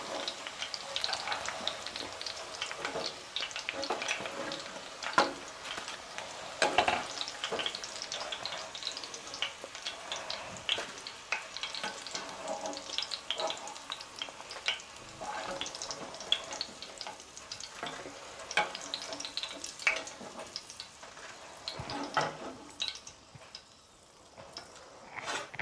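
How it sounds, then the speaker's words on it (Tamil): Okra (ladies finger) frying in hot oil gives a continuous crackling sizzle with small pops throughout, steady and close. "இதே மாதிரி நம்ம எல்லாத்தையும் பொரிச்சு எடுத்துக்கலாம்."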